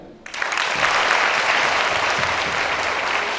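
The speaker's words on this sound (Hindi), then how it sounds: "आपने सच बोला इसलिए अपने लिए ताली बजाओ" Schoolchildren in a moral-education class in Chhattisgarh clap for themselves, a sudden burst of dense group applause that starts sharply and stays steady and loud throughout.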